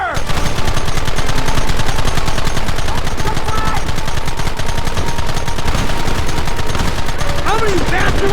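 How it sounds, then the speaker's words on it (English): A Red Dead Redemption shootout keeps up loud, continuous gunfire from start to finish as many rapid shots overlap. A few faint voices can be heard beneath the barrage. "Fingers on the triggers, boys! There they are! Open fire!"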